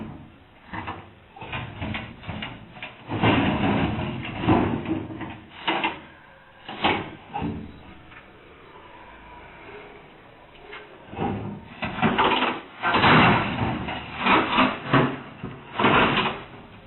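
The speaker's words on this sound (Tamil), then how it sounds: "பூட்டு போட்டிருந்த தோட்டத்து கதவை இன்று அதிகாலை தடியால் அடித்து உடைத்து யானைகள் வெளியேறி சென்ற கண்காணிப்பு கேமரா பதிவு வெளியாகியுள்ளது" Elephants beat and break open a locked garden gate with a stick in the early morning, making irregular clusters of banging and rattling impacts separated by brief lulls, heard through muffled, narrow-band security-camera audio.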